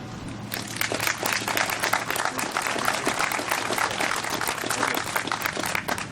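A crowd applauds steadily and fairly densely at the grand opening of the Goldcorp Red Lake Medical Centre, clapping sustained for about six seconds at moderate volume with no speech over it.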